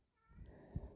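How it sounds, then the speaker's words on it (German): Domestic male cat meowing outside a living room door indoors, one or two short muffled complaints at moderate distance, heard alone. "der Kater jetzt gerade vor meiner Wohnzimmertür steht und meckert"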